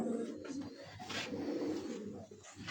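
Pigeons coo softly on a rooftop in Faisalabad in steady, low repeated calls, fairly close, with light background noise and no speech.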